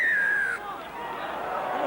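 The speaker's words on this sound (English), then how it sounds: "shrill blast on the referee's whistle" A shrill referee's whistle blast at a rugby league match between Wakefield and Wigan, one sustained piercing tone lasting about half a second, followed by crowd murmur in a large stadium.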